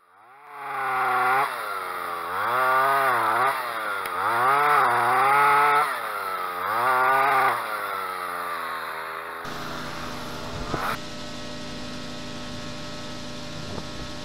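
A chainsaw cuts deep notches into a tree stump, its engine rising and falling in four loud revving surges before settling to a lower steady idle hum with small clatters.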